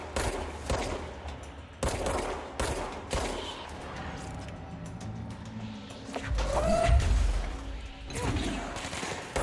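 Repeated gunshots from the video game Control, loud separate shots spaced a second or so apart with a heavier rumbling impact midway, while a player talks between them.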